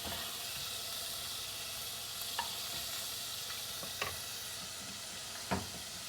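Beef sizzles in a very hot pan, a faint, even hiss marked by a few sharp clicks and scrapes as it is stirred.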